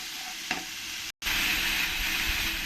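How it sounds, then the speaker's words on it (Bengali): Pointed gourd frying with salt and turmeric in a pan, a steady loud sizzle with stirring scrapes, briefly cut off near the middle before resuming just as strongly. "এক চামচ লবণ আর একটু হলুদ দিয়ে ভালো করে আমি কষিয়ে নেব"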